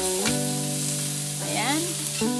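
Tomatoes frying in a pan for a tofu and bitter gourd dish with salted egg, giving a steady close sizzle with a few brief stirring scrapes and clinks over it.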